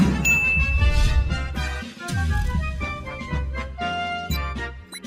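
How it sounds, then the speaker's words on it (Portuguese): A TV show intro jingle with bright musical chimes, bell-like tones and a punchy bass line, played loud and clear with no talk over it. "Roda a vinheta."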